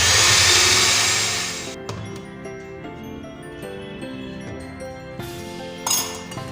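An electric mixer beating cake batter in a bowl while making a strawberry chocolate ganache cake: a loud whirring burst opens, then a steadier, lower-speed humming drone with light clinks against the bowl.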